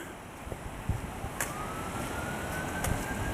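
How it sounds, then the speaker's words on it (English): Emergency sirens wail on a city street in Montreal's Ville-Marie borough, a rising tone drifting over constant traffic hum and street noise, fairly distant and not loud. "More sirens."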